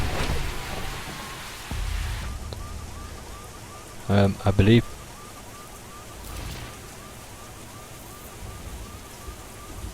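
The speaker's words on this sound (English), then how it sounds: "And it's raining all over the place." Rain falls in a Miami setting in The Crew racing game, a steady broadband hiss under faint engine drone, with someone speaking briefly midway.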